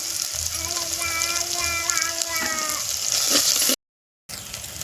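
Curry leaves dropped into hot oil for a village-style poricha kulambu give a loud, steady sizzle and crackle with brief spattering bursts, cutting out abruptly near the end.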